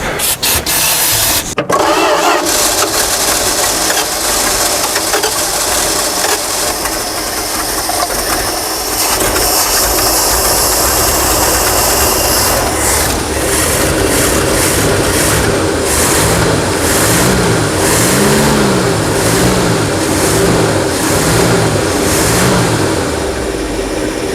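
An abandoned Dodge D-600 truck's old engine running after 23 years of sitting, a loud close continuous rumbling drone with rhythmic pulsing that speeds up in places, no talking over it.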